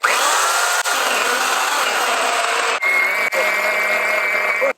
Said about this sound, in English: The bar on my electric chainsaw is twisted, so it's like binding a lot in the wood and making it really hard.